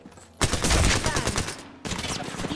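Gunfire in the video game Apex Legends, a loud, close burst of rapid automatic fire that starts abruptly, holds for over a second, pauses briefly, then resumes with more rattling shots.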